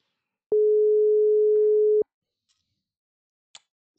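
A single phone ringback tone during an outgoing call, one steady unbroken tone of about a second and a half, clear and alone, followed by a few faint clicks.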